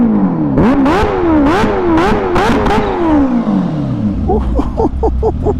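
A Kawasaki Ninja H2 motorcycle engine revving hard, loud and close, with repeated sharp throttle blips rising and falling, then a long winding-down pitch and a string of quick short revs at the end.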